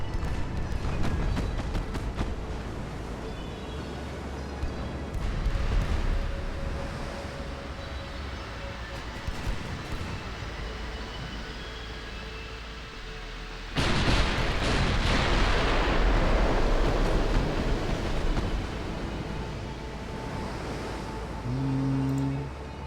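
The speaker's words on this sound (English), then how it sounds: "We should be getting full broadsides from all the battleships now." Battleship broadside gunfire in the naval warfare game Ultimate Admiral: Dreadnoughts, heard as a continuous rumbling barrage of deep booms, swelling sharply into a louder, denser salvo partway through.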